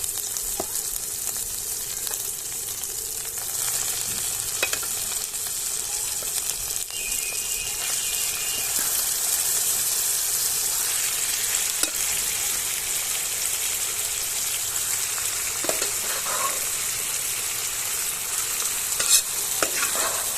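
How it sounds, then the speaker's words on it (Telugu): Marinated prawns fry and get stirred in a pan with ginger-garlic, giving a steady loud sizzle with scraping stirs and occasional clinks of the spoon throughout, no talking. "ఇప్పుడు ఇందులోకి నేను మ్యారినేట్ చేసి పెట్టిన ప్రాన్స్ యాడ్ చేస్తున్నాను."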